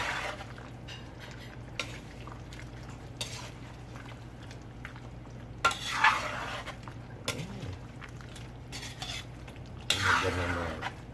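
Chicken curry with rice is stirred in a pan, with repeated scraping and clanking of a utensil against metal at irregular intervals over a low, steady sizzle.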